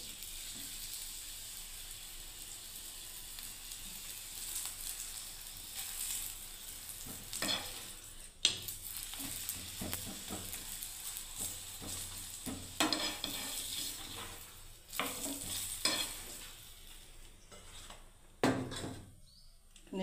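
Methi (fenugreek leaf) paratha frying in ghee on a pan gives a steady, close sizzle, broken by intermittent scraping and clattering as it is turned, with no talking.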